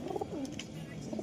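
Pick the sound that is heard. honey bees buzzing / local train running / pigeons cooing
pigeons cooing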